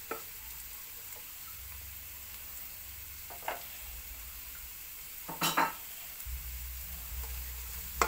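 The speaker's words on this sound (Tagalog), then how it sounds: "pwede na po natin dyan ilagay yung ating yung ating pata na medyo prinito natin ng kaunti dito." Pork hock frying in a pan with onion and garlic, a faint steady sizzle broken by a few clinks and scrapes of a utensil stirring, with a louder clatter midway.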